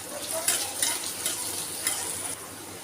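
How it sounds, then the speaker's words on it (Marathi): Ginger garlic paste and green chillies sizzle steadily in hot oil for a pulao of cracked wheat, with a few scraping stirs of a spoon against the pan, close and alone. "पुन्हा हे तेलासोबत परतून घेऊयात"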